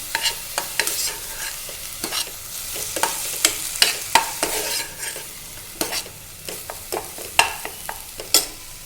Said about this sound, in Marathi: आलं आलं टाकूया थोडंसं परतून घेऊ चांगलं